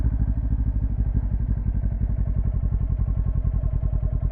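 A motorcycle idles and putters steadily at low speed during a beginner's slow tight-turn drill, its engine thumping in an even rhythm, close and constant with no talking.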